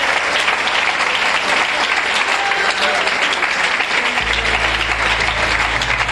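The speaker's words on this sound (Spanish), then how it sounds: "Dele un aplauso a la gloria de Él en esta tarde." A church congregation applauding at an afternoon service: steady, loud, dense clapping from many hands that fills the whole stretch without pause, with a low hum joining near the end.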